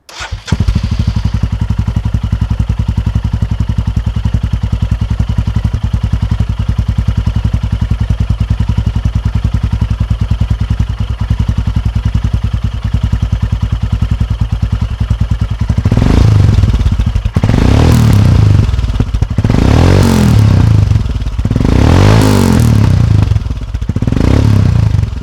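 Royal Enfield Himalayan fitted with a PoweRage aftermarket exhaust, idling steadily and loudly for about fifteen seconds, then several sharp throttle revs rising and falling in repeated bursts, close to the bike.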